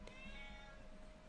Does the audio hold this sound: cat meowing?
yes